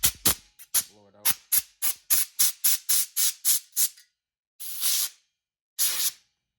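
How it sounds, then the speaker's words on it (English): Compressed air blown in short hissing bursts to clean dust out of a PS5 console, about a dozen quick rhythmic sprays followed by two longer blasts, close and alone. "Get some compressed air, or a duster that you can get at the store is fine as well."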